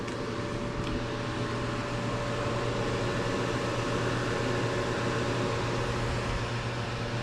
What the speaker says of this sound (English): That motor's running, our fan. Auger's working.